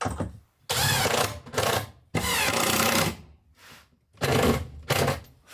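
A screwdriver drives a screw into a drawer runner in bursts: several loud whirring runs separated by short pauses, close by and harsh, with the bit slipping and rattling at times.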